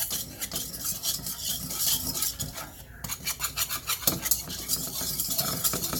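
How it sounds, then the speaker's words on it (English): Homemade gravy stirred in a pan for Salisbury steak, with rhythmic scraping of a utensil against the pan bottom, repeated strokes close up over a soft sizzle. "And you keep stirring it because you don't want it to get stuck to the pan"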